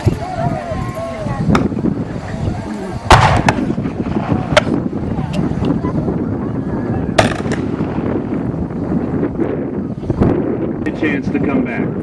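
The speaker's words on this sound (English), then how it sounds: "the troops in the back are loading while the troops in front can fire" Civil War reenactment troops fire muskets outdoors, a few sharp cracking shots at irregular intervals, one loud and close and others farther off, amid wind buffeting and crowd chatter.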